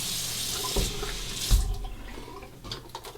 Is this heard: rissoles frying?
no